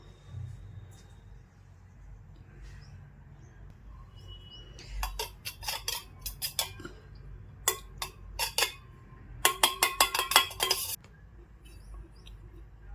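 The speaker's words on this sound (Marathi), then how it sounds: "त्याच्यामध्ये गरजेनुसार मीठ टाकू त्याला आपण हलवून घेऊ" Potato and onion mixture being stirred with salt, with bursts of rapid metal clinks and scrapes of a spoon against the vessel in a quiet room.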